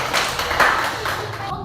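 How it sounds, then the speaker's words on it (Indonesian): Classroom students clap together for two classmates during a lesson, a short burst of brisk, close clapping with a few louder hits, ending abruptly. "Tepuk tangan buat Haikal dan Grace."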